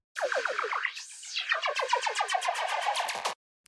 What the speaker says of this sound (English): that's pretty much how you make a sweep inside of Snap Heap